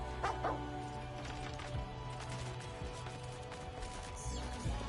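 A robot dog barks in the Stellar Blade video game, out in a wasteland; a few yips and barks sit close over a busy, steady game soundscape with music and effects.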